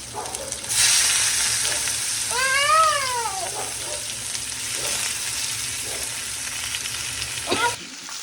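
Onion frying in oil in a home kitchen, a steady broadband sizzle running throughout with a clear cat meow rising and falling partway through, and a couple of faint clinks near the end.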